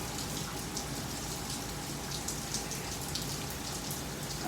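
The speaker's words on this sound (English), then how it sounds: "What you're looking at is a rain in Fort Lauderdale, but it's just coincidental." Steady rain falls in Fort Lauderdale, a dense, even hiss of many drops hitting surfaces that stays constant throughout with no voices.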